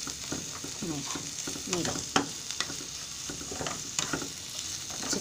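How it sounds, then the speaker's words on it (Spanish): Cuaresmeño chiles sizzle with onion and garlic in a hot pan, a steady close frying hiss broken by repeated scraping stirs, while a voice speaks briefly. "Igual que se empiecen a saltear con la cebolla y el ajo"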